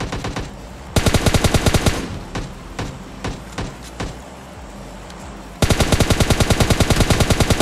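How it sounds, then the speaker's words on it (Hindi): Automatic gunfire in the mobile battle royale game PUBG Mobile Lite comes in rapid sharp bursts, with a long loud volley, scattered single shots in the middle and another sustained burst at the end. "बहुत दूर से गोलियां आ रही हैं"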